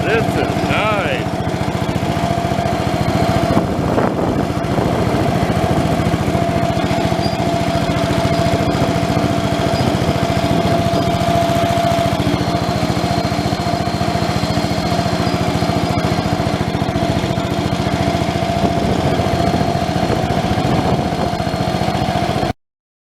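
A garden tractor's engine drones steadily and close while mowing with sharp blades, a loud continuous mid-pitched hum with a faint whine, and speech can be heard faintly under it.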